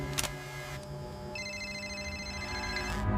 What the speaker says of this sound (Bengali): হঠাৎ বাজলো তার পুরনো সিমের ফোনটা।